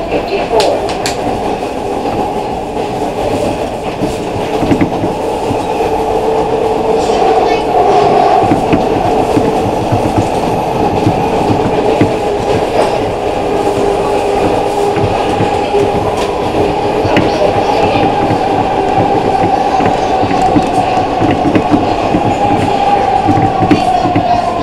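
A 1997 ADtranz M4 subway train on SEPTA's Market-Frankford Line runs steadily, heard from inside with a constant loud rumble and motor whine and a rhythmic clickety-clack of wheels over rail joints throughout.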